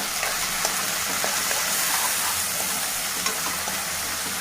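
Drumstick, green pea and tomato curry being stirred with salt and turmeric, a loud continuous sizzle with soft scraping strokes of the spoon through the thick mixture, no voices.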